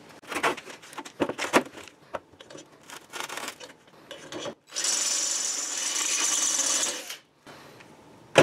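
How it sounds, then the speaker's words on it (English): A drill bores through a cast iron piece from the back side. Scraping, rasping contacts come first, then a sustained, loud, steady grinding whine runs for about two seconds and stops abruptly. "now I'll flip it over and back drill it"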